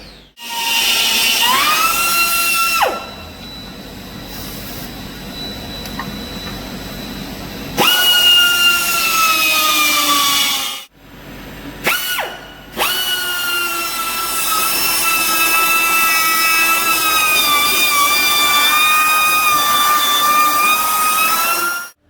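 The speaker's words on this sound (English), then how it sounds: "we're just gonna use an air Dremel and work this away till we're very close to the perspex" A high-pitched air Dremel whines loudly as it cuts perspex, stopping and restarting several times with short pauses between long runs.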